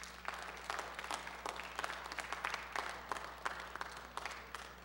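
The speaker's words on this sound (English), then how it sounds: "Can we please give our participants a round of applause" Audience applause for participants at a church service livestream, a steady wash of many hands clapping at moderate distance, fairly quiet with a low hum beneath.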